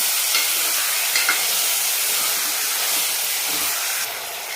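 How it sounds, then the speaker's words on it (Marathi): Chicken pieces fried and stirred in hot oil over a high flame, a loud continuous sizzle and hiss close up, with faint scraping from stirring and no talking. "हाय फ्लेमवरती त्याला चांगलं परतून घ्यायचं"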